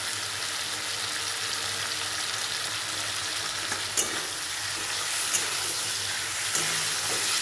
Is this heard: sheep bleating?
no